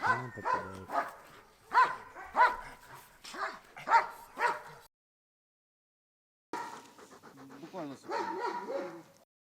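A Doberman barks in a rapid series of close, loud barks with panting between them, then after a short silence gives more barks and whimpering sounds.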